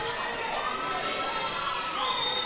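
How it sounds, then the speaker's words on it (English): A busy crowd fills a high school gym during a basketball game, a steady wash of chatter, children's shouts and scattered cheers, with voices speaking in the mix. "We have a great crowd here in Greensburg this afternoon at the Cuyahoga County High School."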